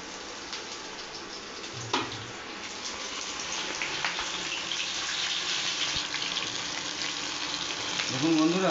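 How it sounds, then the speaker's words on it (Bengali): Chopped onions sizzle in a hot pan for a homemade Indian chicken curry, a steady broadband hiss that swells slightly, with a few clinks and a stir near the end. "এবার বন্ধুরা পেঁয়াজটাকে ভেজে নিচ্ছি"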